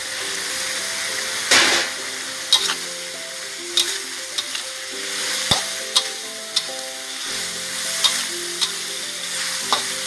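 Onion flowers stir-fry with holy basil and chicken breast in a Thai pan, a continuous loud sizzle punctuated by regular sharp spatula scrapes, with quiet music in the background and no voices.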